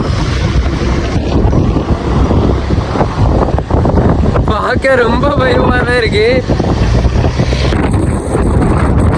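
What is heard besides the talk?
strong wind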